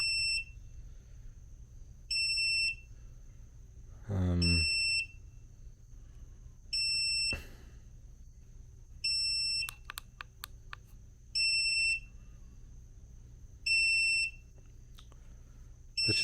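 An Elitech LMC-310 wireless HVAC refrigeration charging scale beeps in regular high-pitched pulses about every two seconds, clear and close, with a few soft clicks and a brief low rumble partway through.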